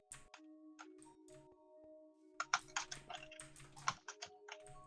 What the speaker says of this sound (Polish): No, słyszę klawiaturę